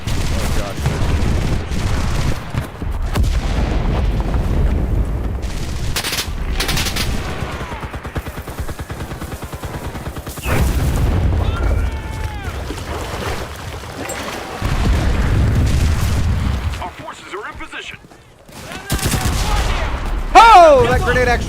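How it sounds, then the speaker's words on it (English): Grenade blast amid gunfire in the shooter Enlisted, a loud explosion among dense bursts of rifle and machine-gun fire in a chaotic battle, with someone talking over the combat. "Oh, that grenade actually did something."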